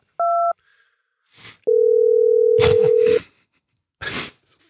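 A telephone gives a short two-tone beep, then a long, steady single tone for about a second and a half, with voices talking right after it.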